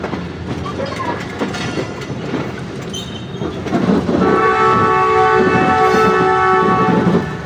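Train rumbling at Wazirabad Junction platform in Pakistan, wheels clattering and squealing, then a loud sustained horn blast swelling up close, with someone talking over it.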